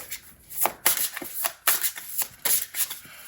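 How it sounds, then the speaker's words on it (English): Tarot cards are shuffled repeatedly up close, quick riffling bursts and soft slaps in an uneven rhythm, with no talking. "it feels great to be able to shuffle on camera again"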